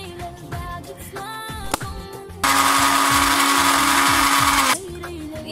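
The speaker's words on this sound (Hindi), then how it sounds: "तो अब मैं इनको ब्लेंड कर लेती हूँ।" A kitchen blender whirs loudly and steadily for about two seconds, grinding Oreo biscuits for an ice cream kulfi, after quieter kitchen clatter and faint talk.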